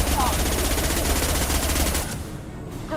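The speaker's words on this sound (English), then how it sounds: "The shittiest submachine gun." A weak submachine gun in Mass Effect 2 fires a loud, continuous rapid burst for about two seconds, then breaks off into quieter game sounds.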